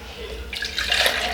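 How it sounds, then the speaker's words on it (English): Water pours into a blender for a green detox smoothie, a steady close splashing and trickling that swells and brightens through the second half. "little bit of water inside of the blender"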